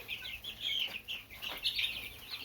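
Baby chicks peeping in a brooder, a busy flurry of high, rapid chirps from several birds overlapping continuously and heard up close.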